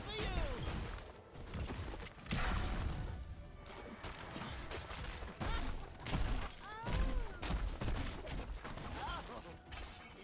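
A fort is destroyed in a Heroes of the Storm match, with repeated crashing impacts, shattering debris and combat effects, loud and busy, while a caster talks over the action.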